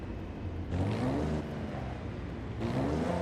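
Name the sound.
car engine revving in Forza Horizon 5 video game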